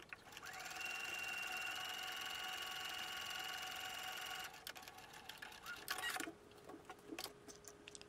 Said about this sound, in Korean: 겉감과 안감의 양옆을 1cm 간격으로 쭉 재봉해 주세요.